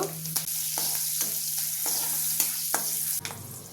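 Curry leaves, mustard seeds and cumin tempering in hot oil for a bottle gourd chutney, a steady close sizzle and crackle broken by a few sharp stirring clanks, with no talking.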